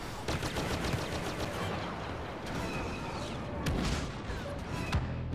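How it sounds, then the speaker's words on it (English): Rapid blaster fire in Star Wars Battlefront on Endor, a steady dense stream of repeated shots with mechanical clatter and battle noise, close and continuous, no talk. "I'm just literally standing here shooting at it."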